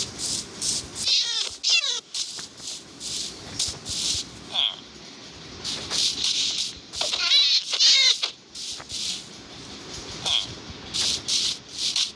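A cat meows repeatedly in a game, short bright squeaky calls recurring in bursts alongside clicks and rattling, close and fairly loud.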